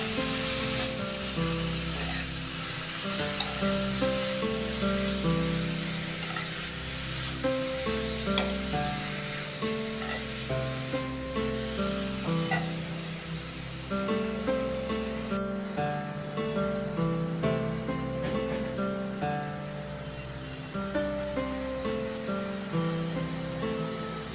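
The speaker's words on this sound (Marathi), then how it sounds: "बीटरूटला मंद आचेवर आपण तुपात खरपूस भाजून घेऊया." Grated beetroot frying in ghee over low heat, a steady soft sizzle with occasional stirring scrapes, close and continuous with no talk, though strong tonal background music sits over much of it.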